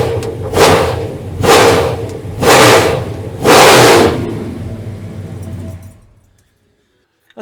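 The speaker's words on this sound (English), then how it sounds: "I'm gonna rev it up a few times and we'll shut her down." A car engine revs up four times in succession, each burst loud and close, then drops back and shuts off into silence near the end.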